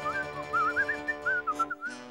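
A melodic whistled tune, close and clear, with quick wavering notes in short phrases and brief pauses between them.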